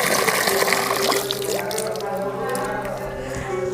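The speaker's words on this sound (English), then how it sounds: "It looks like somebody has left the tap open." Water runs steadily from an open tap, a continuous splashing rush with faint dripping, heard clearly throughout.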